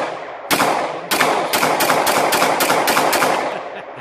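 Rapid fire from a SIG P320 9mm pistol at a shooting range: about ten sharp, loud shots in quick succession, close and echoing, with no talking.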